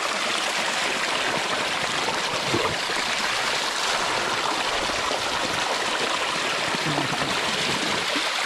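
Water gushes steadily under strong pressure from an irrigation pipe, producing a continuous broad rushing hiss that holds at an even loudness throughout with no voices.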